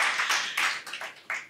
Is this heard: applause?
yes